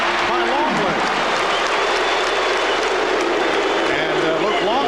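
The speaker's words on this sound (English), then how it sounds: "Luke Longley hearing the chants from the crowd" Loud, dense roar of a basketball arena crowd at a 1997 Knicks at Bulls game in Chicago, cheering and chanting steadily throughout with a courtside voice mixed in.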